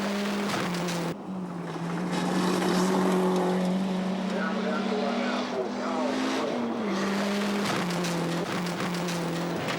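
A rally car at a 2003 rally sprint roars downhill, its engine droning loud and steady with gear changes and brief dips, under a commentator's voice.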